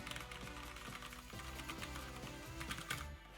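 Rapid clicking of a compact 60% mechanical gaming keyboard with brown switches, keys tapped in quick irregular bursts, close and fairly quiet with a low background hum.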